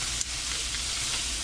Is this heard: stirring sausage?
yes